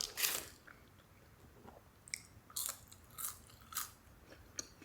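Close crunchy bites and chewing on slightly soggy but still semi-crunchy Wingstop fries, several distinct crunches spaced across the clip with quiet pauses between them.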